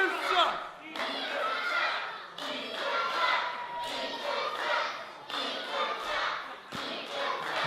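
A wrestling crowd at an independent show shouts and cheers in bursts, the noise rising and falling with occasional thuds. A commentator talks over it throughout.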